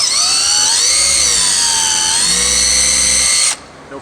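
A power drill bores a hole during repair work on a Piper Pawnee aircraft, a steady loud whine that holds throughout, dipping slightly in pitch midway before cutting off abruptly near the end.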